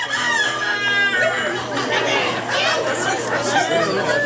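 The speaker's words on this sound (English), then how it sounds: "Rooster's talking." A rooster crows loudly nearby over a busy crowd chattering in the background during a show in Luckenbach, Texas.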